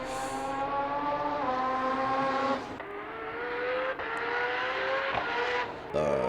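Roll racing cars of about 2,000 horsepower in Australia roar continuously at high revs, with rising gear-change tones and brief shifts, loud and close throughout.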